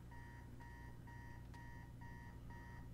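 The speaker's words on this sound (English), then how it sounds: "I hear an alarm going off." An alarm in the Spider-Man 2 video game beeps in a steady repeating pattern of six short tonal pulses over a constant low background hum, fairly quiet overall with no talking.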